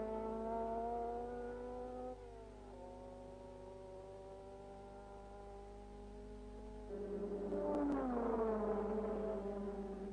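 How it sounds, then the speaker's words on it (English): Ferrari V6 Grand Prix race car engines run during qualifying, a steady distant mechanical whine that holds its pitch, dips briefly, then swells louder and rises as a car accelerates past; faint, with no talk. "the Ferrari V6 engines sounding much better than the Coventry Climaxes"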